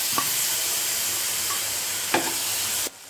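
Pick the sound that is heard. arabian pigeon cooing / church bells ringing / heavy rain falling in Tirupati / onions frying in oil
onions frying in oil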